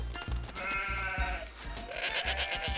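Sheep and goats bleat in quick succession, several overlapping wavering cries close by, loud and continuous.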